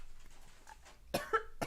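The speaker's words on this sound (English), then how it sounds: "I started coughing and then I took a water. I'm coughing more." One person coughs in a quick close burst of two or three harsh coughs, then a final short cough. A faint, quiet background comes before them.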